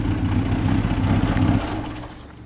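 A 1938 SS Jaguar 100 3½ Litre engine idling with a loud, steady low rumble, then switching off partway through, the throb cutting out and the sound fading away.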